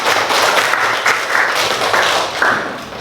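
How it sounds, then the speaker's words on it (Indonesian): A crowd of students applauds at a school student-council election event, a steady, dense clapping that holds fairly loud for the whole stretch with no voices over it. "Ya, tepuk tangan."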